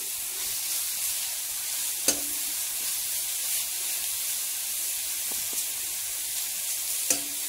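Jaggery fries in a pan for carrot halwa with a soft, steady sizzle and hiss, broken by a few sharp clicks of a spoon against the pan, quiet and close.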